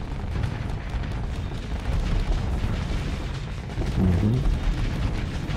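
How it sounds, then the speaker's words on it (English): Big ship guns fire continuously in the space combat game Starsector, a dense rumbling barrage of deep booms and blasts, with a brief murmur of a voice. "Fire your big guns. That's what I like to see. Fire them big guns."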